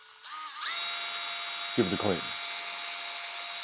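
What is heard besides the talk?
drill spinning brass coated steel wire wheel buffer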